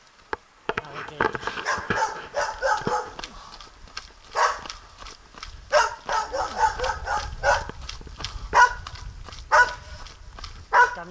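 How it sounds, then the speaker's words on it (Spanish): A dog barks repeatedly outdoors in a regular series of sharp barks, moderately close, over light background noise on a trail during a long training run. "Aquí llego un perro."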